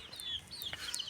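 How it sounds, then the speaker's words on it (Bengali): Chickens kept in a basket cluck and chirp softly, a few short high calls close by and faint, with no talking. "এই যে ট্যাপার মধ্যে মুরগিগুলো রেখে দিয়েছি"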